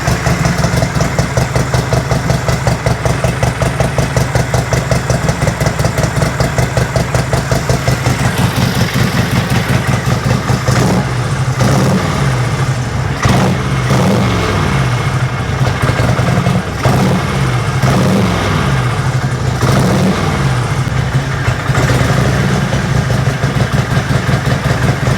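A 1958 Harley-Davidson Panhead V-twin idles while running rich, a loud, close, lumpy rhythmic thumping that loosens and wavers partway through before settling back into its steady beat.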